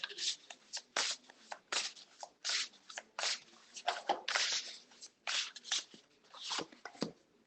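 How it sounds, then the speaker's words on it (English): Tarot cards being shuffled by hand, a series of close, papery riffles and slides repeating in bursts with short pauses between them. "Okay, Sarah, what does the cards have for you today?"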